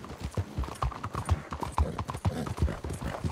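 Horse hooves clip-clop at a steady trotting rhythm on the streets of Saint-Denis in Red Dead Redemption 2, close and clear, with several horses and raiders nearby.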